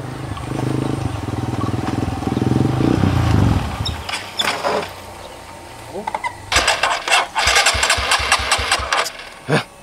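A motorcycle engine cranks and runs with a low steady idle for a few seconds, then cuts out and gives way to sharp clattering and scattered knocks close by.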